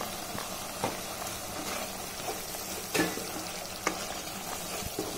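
Masala for a paneer and soya chunk curry fries in oil in a pan with a low, steady sizzle, broken by a few soft clicks and scrapes of stirring.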